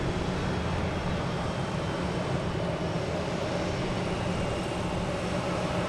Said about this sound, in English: We got Alaska here firing up, getting ready to go.